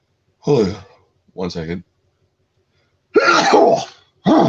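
A person sneezes loudly and close by, right after a short spoken phrase, during a live discussion stream about a vampire action film. More talking follows.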